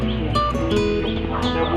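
A chicken clucks and calls close by in a farm pen, a brief loud run of squawky, rising notes with no other sound around it.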